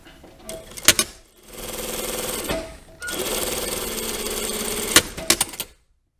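A sewing machine stitches a double welt pocket in two sustained close runs separated by a short pause, ending with a few sharp clicks and thumps.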